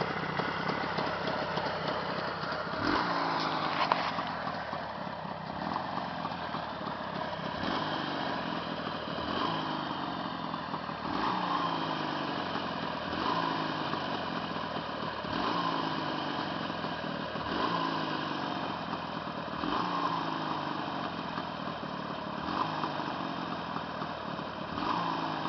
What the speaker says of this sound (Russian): Ну тут без музыкального слуха понятно, что движок тихий, отличный, выхлоп одинаковый.